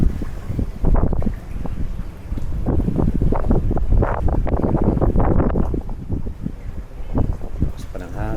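Gusty wind buffeting a microphone at a private resort, a steady rough rumble that surges and fades, heard under people talking nearby.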